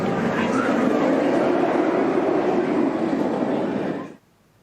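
A B&M roller coaster, Nemesis at Alton Towers, roars past in a loud, steady rumble of wheels on track that holds for about four seconds and then cuts off abruptly.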